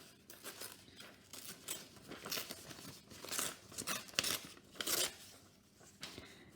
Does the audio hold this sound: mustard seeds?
no